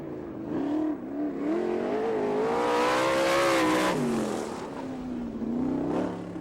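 A dirt-track race car with an LA Engines Eagle chassis, number 7J, runs a qualifying lap, its engine revving with rising and falling pitch as it swells in close, peaks loudly, then fades away.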